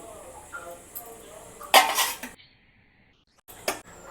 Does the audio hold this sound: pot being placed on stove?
yes